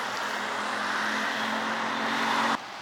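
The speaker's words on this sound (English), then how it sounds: "Ah, Hyundai Elantra." A Hyundai Elantra passing on a street in a small highland town in Vietnam, a steady close engine and tire rush that holds level and then cuts off abruptly near the end.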